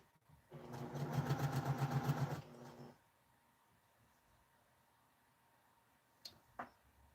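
A home sewing machine chain piecing quilt blocks, stitching in a fast, loud burst of regular pulses for about two seconds, then stopping; a couple of faint clicks follow in the quiet.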